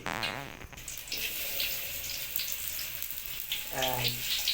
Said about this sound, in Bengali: আমাদের অয়েল গরম হয়ে গেছে এবার আমরা পেঁয়াজ দিয়ে নিচ্ছি